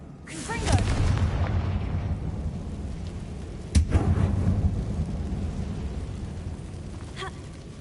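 A Confringo blasting spell fires in Hogwarts Legacy, setting off two deep rumbling explosions a few seconds apart. Each booms and then rolls away into a long fading roar.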